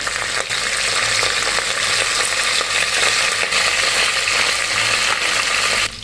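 A generous handful of curry leaves crackles and sizzles loudly in hot oil with fried garlic, a dense continuous spattering with faint scraping clicks, before the sound drops off abruptly at the end.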